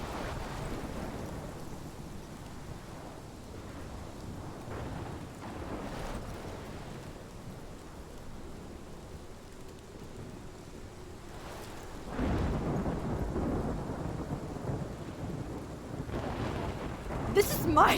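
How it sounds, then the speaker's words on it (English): Thunderstorm in the Life is Strange video game: steady rain and wind with low rumbling thunder that swells louder near the end. "This is my storm. I caused this."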